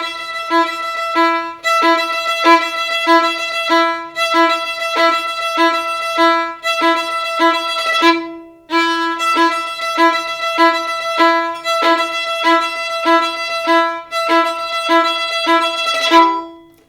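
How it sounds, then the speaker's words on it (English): A guitar plays a driving rhythm in repeated dotted-eighth and sixteenth patterns, loud and close, with short breaks between phrases and no talk. "The whole thing starts with the guitar playing the rhythm."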